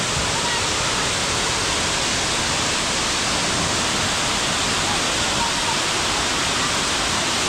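Waterfall in Ratnagiri during the monsoon season, a loud, dense, unbroken roar of rushing water that fills the whole clip at constant level, close by, with no distinct voices.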